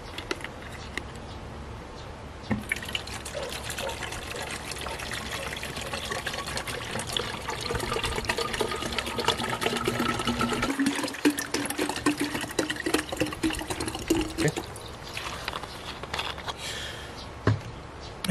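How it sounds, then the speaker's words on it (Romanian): Water pours steadily into a container for a homemade pest-control mix, a continuous trickling and splashing that starts after a quiet moment and runs on, close and fairly loud. "Adăugăm apă."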